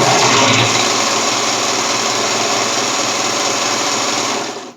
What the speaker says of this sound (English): So just sew all along this curve